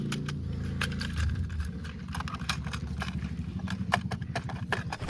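Toy horse walking along, its mechanism producing a rapid, steady clip-clop rhythm with a whirring motor hum and light clicks, close and continuous with no voices.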